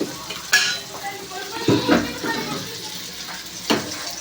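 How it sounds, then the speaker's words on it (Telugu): Vegetables with turmeric fry in a pan for a jackfruit seed curry, a low sizzle broken by a few sharp stirring scrapes and clatters of utensil against pan, fairly close. "ఇవన్నీ ఫ్రై అయ్యే వరకు ఫ్రై చేసుకోవాలండి"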